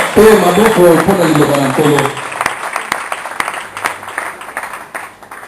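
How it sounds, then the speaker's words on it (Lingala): A church congregation breaks into applause over speech and singing, the clapping loud at first and then thinning to scattered claps. "on peut applaudir pour la parole du Seigneur"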